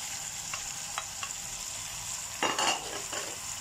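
Meat is tipped into a pan of onions frying for a stuffed pumpkin dish, giving a steady sizzle with a few light stirring scrapes and a louder burst of sizzling near the end.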